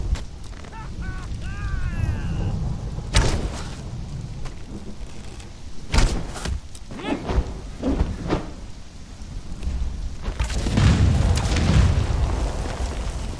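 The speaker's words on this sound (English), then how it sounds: "That did absolutely nothing for it being an explosion." Explosive arrows going off in the game Conan Exiles, with several sharp booming bursts scattered among rumbling, crackling game noise, and a heavier rolling blast near the end, with no speech.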